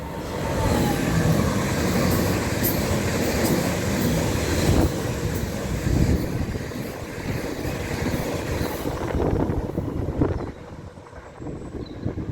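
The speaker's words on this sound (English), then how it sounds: "It's an intercity train that's just going to bowl through up to Norwich." An intercity train bowls through Shenfield station in Essex without stopping, heading up to Norwich: a loud, close, sustained rushing roar with rattling wheels and a gusty backdraft, easing off near the end.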